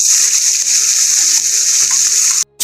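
Chopped onion frying in hot oil with bay leaf, dried red chillies and whole cumin for a fish curry, a loud steady sizzle with faint clinks, cutting out abruptly near the end.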